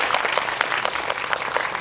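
Dense applause from an audience at a film Q&A screening event in a cinema hall, steady rapid clapping that holds at an even level throughout.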